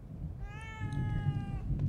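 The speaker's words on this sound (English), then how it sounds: "Oh, there's a cat over there." A single drawn-out cat meow sounds close and clear over a low, rumbling ambient drone in the horror game The Evil Within 2.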